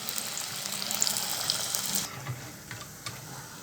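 Chicken roll samosas frying in hot oil, a bright crackling sizzle that runs steady for about two seconds, then drops to a faint simmer with a few soft clicks.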